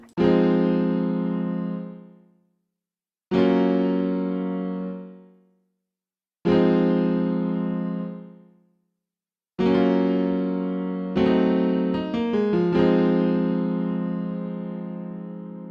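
Four sustained synth chords ring out one after another, each swelling briefly then fading, with the last one shifting through a few changing notes.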